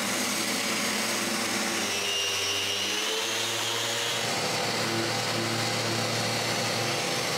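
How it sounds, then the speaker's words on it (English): A floor sander grinds steadily across a big outdoor patio floor, a continuous loud motor whine and abrasive hiss running unbroken from start to finish, with a slight shift in pitch partway through. "I start to sand the floor"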